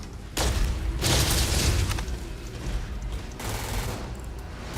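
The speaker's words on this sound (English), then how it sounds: "Throwing a grenade!" In the video game Starfield, a thrown grenade erupts in a loud, close boom amid sustained gunfire, dense crackling bursts of shots and rumbling blasts layered over each other.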